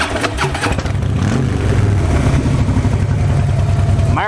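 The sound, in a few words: 2013 Harley Softail Blackline motorcycle engine starting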